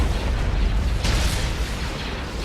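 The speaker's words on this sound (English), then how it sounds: "Ion cannon firing." Ion cannon firing in a Star Wars space battle game, a loud booming blast with a sharp bright burst about a second in, over dense continuous battle noise.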